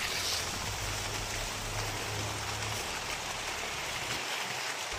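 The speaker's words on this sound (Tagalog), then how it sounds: "Saka malakas rin ang ulan." Heavy rain pours steadily and loudly, a dense close-up hiss with no break, while a low rumble runs underneath for the first few seconds.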